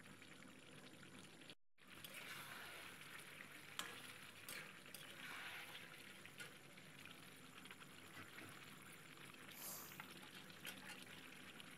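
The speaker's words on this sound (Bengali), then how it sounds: "এইবার নাড়তে নাড়তে কড়াইতে যেন জল ছেড়ে দিচ্ছে চিকেন থেকে।" Chicken frying in a kadai while being stirred and releasing its water gives a faint, steady sizzle, with soft scraping stirs and a brief drop to silence near the start.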